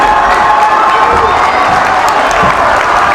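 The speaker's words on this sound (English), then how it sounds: "Everyone's clapping" A dense roar of crowd noise at a high school boys basketball game, with cheering and shouting blended into steady clapping, loud and continuous.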